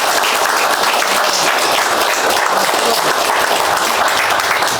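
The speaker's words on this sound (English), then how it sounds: "let's give them a round of applause" At an outdoor ribbon-cutting ceremony for Grace Street Park, a crowd gives Parks Foundation board members a round of applause: loud, dense, unbroken clapping that stays even from start to finish.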